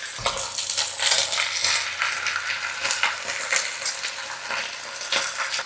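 Chunks of beef chuck sizzling and browning in a hot pan for an Italian ragù, a dense crackling fry with intermittent stirring scrapes throughout, close and fairly loud.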